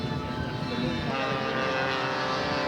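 A scale model propeller aircraft flies at an outdoor scale aircraft show, giving off a continuous steady engine drone with no pauses, while people talk over it.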